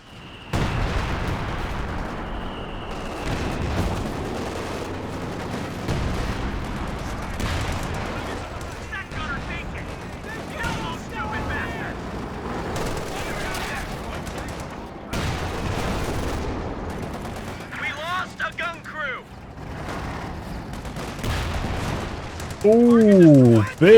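An HE Sherman tank firing in Company of Heroes 2, with machine-gun bursts and heavy explosions rolling through a busy battle over a commentator's voice.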